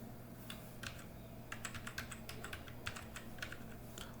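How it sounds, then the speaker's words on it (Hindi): Tab key and other keys pressed on a computer keyboard while filling in spreadsheet cells, a steady run of close, light clicks with a few louder taps. "अगर हमको अब अगली सेल में जाना है तो कीबोर्ड से टैब बटन दबाएंगे।"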